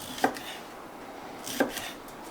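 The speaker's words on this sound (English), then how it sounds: "And just slice it" Knife slicing a baby bell pepper into strips on a board, two crisp separate chopping taps close by against a soft background hiss.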